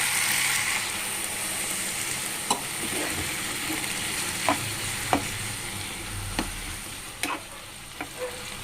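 Bisi bele bath stirred in a pan with a faint steady sizzle underneath and a series of sharp spoon scrapes and clinks spaced a second or so apart, with no voices.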